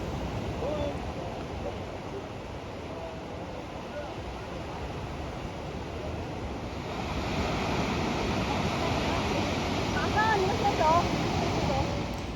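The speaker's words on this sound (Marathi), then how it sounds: "खाली वेव्ह जोरात आदळतात आणि वॉटर क्लिअर दिसतं." Ocean waves crash onto a Bali beach with a steady, loud roar mixed with wind, and the surf builds heavier toward the end.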